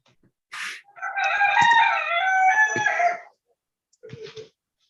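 Rooster crowing loudly and close by, one long cock-a-doodle-doo with a short squawk before it and a brief clucking call after, in otherwise quiet surroundings.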